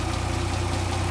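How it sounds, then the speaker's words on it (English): A 2010 Dodge Challenger engine running after being started, a steady, close, continuous mid-to-low hum with an even pulse throughout. "the car started up"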